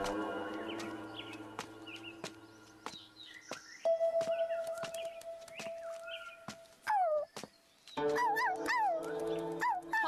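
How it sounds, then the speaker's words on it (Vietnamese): A small puppy whimpers with high, wavering cries and gives sharp yips among scattered clicks and taps, in a scene from a story about a family taking in a stray pup. Fairly close and fairly quiet, with no talking. "Con chó nhỏ đáng thương, hãy để nó đi theo chúng ta đi."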